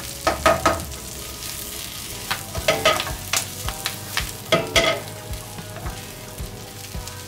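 Chinese sausage and dill leaves stir-fried in a pan, with a steady sizzle and repeated scrapes and clacks of the spatula tossing the food.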